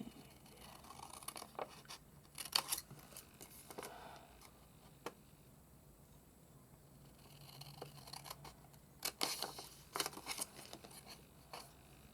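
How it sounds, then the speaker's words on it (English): Scissors snip through paper card along ruled lines in a close, quiet series of short, crisp cuts, clustered in bursts with pauses between them. "now I'm just going to cut on these lines"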